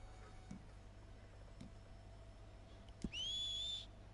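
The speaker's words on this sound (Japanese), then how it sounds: "口笛。" A single short whistle from a character in Red Dead Redemption 2 Online, a thin high tone that rises slightly and holds for under a second after quiet ambience with a couple of soft clicks.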